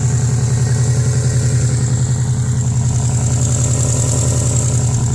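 A turbocharged all-wheel-drive car's engine runs loud and steady with a rough, pulsing drone and hiss, suggesting a leak in the engine bay, continuous with no talking.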